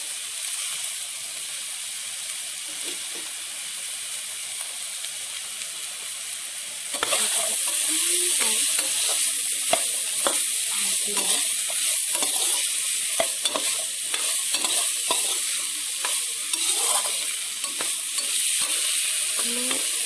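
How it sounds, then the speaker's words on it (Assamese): Eggplant and potatoes sizzling in a pan, a steady frying hiss that swells louder midway as the pieces are stirred, with scraping and clinking of the spatula throughout. "ইয়াত বেঙেনা আৰু আলুখিনি ইয়াত দি দিছোঁ।"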